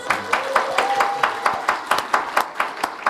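A church congregation at a Friday worship service claps in welcome, with loud, rhythmic group claps landing in a steady beat, close and prominent, alongside a brief faint tone.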